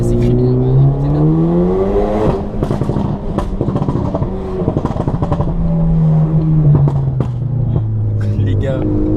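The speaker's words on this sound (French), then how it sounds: "Mais c'est criminel, écoutez bien." A Renault Mégane RS engine revs and pulls through rising and falling pitch sweeps, loud and close from inside the car, with people talking excitedly over it.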